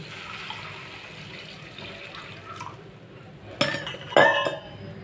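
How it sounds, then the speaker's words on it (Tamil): Water poured into a pan while cooking Yippee noodles: soft kitchen clatter gives way to two short, splashy bursts of pouring near the end, close and fairly loud. "இப்போ இதில் தண்ணி ஊற்றிக்கலாம்."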